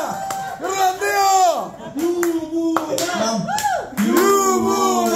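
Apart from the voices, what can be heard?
audience clapping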